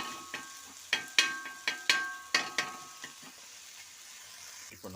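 A spatula chops and stirs chicken frying in a pan for a chicken cheese omelette, about nine sharp metallic taps in an irregular rhythm over a soft, steady sizzle, close and quiet, with no talking.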